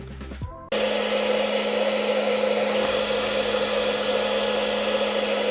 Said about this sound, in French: j'ai utilisé un sèche-cheveux pour cette scène